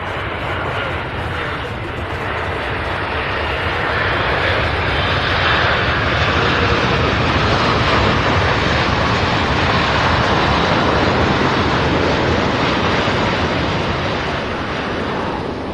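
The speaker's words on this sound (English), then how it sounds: "What a beautiful landing" An aircraft lands at Louisville International Airport, a loud, sustained roar of engines and rushing air that swells and holds steadily for the whole stretch without a break.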